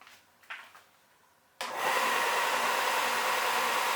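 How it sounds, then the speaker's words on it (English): An electric sander switches on after a couple of faint knocks and then runs as a loud, steady broadband whir close by, continuing evenly without talking. "Listen to what happens when I turn the sander on."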